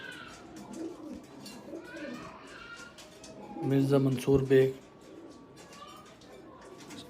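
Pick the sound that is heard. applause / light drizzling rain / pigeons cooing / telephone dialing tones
pigeons cooing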